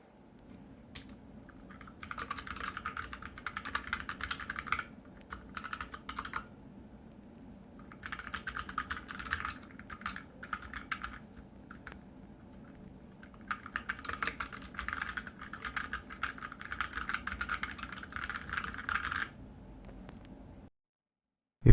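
Fingers type on a Tex Yoda II TrackPoint mechanical keyboard, producing steady bursts of close, crisp key clicks separated by short pauses, with no talking.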